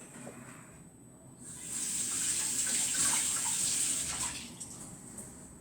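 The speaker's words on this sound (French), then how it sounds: "Mes carottes. Je vais les laver." Carrots are rinsed under a running kitchen tap. The water hisses and splashes softly, swelling for about three seconds before fading back down.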